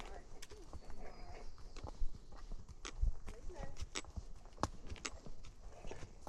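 Hooves of a horse named Tucker clip-clop at a steady walk while he is ridden, the footfalls moderately near amid outdoor ambience and talking.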